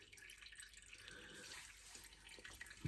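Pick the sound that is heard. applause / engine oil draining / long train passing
engine oil draining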